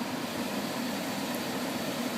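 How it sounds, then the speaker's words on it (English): The air conditioning in a BMW car blows cold, a steady, even broadband rush of airflow, close and continuous, with no voices. "So the air conditioning is now blowing cold,"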